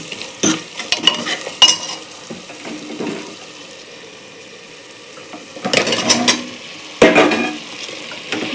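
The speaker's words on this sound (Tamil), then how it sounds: "இப்போ நறுக்கி வச்ச காயை போட்டுக்கிடுவோம்" Intermittent scraping and clattering of a spoon stirring chopped vegetables, including beetroot, for sambar in a cooker pot, with bursts of activity separated by a quieter stretch and faint sizzling beneath.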